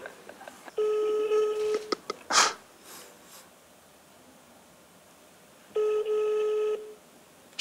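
Telephone ringing tone on an unanswered call in a game on a TV comedy show, two long loud rings separated by a pause, with a brief burst of noise between them and no talk.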